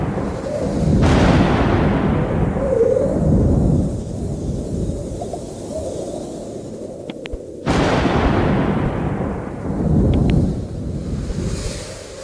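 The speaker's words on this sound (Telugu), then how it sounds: "గాలి తుఫాన్ వస్తుంది" Loud roaring gusts of wind sweep in waves, with a deep rumbling surge, two big blasts building and fading.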